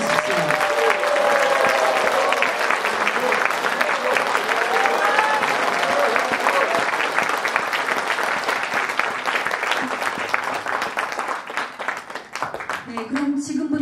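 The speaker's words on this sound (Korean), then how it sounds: "여러분 큰 박수 보내주십시오" Sustained applause from a concert audience after an orchestra's performance of a csardas, steady and dense throughout before thinning slightly at the end.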